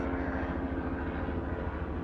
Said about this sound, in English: We have a helicopter going up, so a lot of noise right there